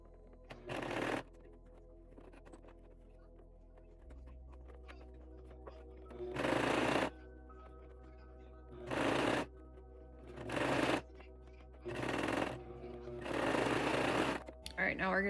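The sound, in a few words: sewing machine stitching fabric for a memory bear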